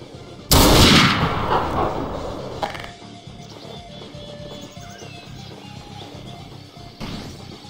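A sniper rifle shot in Garry's Mod goes off as one loud, sharp blast with a long rolling echo, followed by quieter clatter and a fainter second report near the end.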